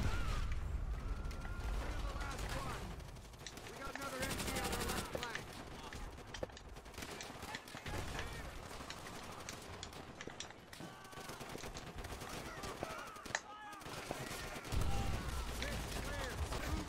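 Video game gunfire in Call of Duty: World at War plays as bursts of rapid shots and mechanical clatter, fairly quiet overall and mixed with game sounds and intermittent talk.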